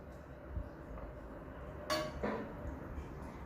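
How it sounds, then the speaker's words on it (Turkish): A metal spoon clinks against a dish while stuffing filling into eggplants for imam bayıldı, a few quiet scrapes and one brighter clink in a kitchen. "İçine kaşıkla bolca malzemeden yerleştirerek koyalım."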